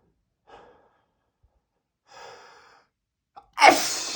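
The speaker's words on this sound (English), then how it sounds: "I gotta sneeze" Two soft, quick breaths spaced apart lead into a short gasp and then a loud, explosive sneeze close to the mic, ending with a trailing hiss.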